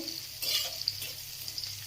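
Food sizzles faintly in a frying pan and is stirred in a couple of short scraping bursts, with a low steady hiss underneath and no talking.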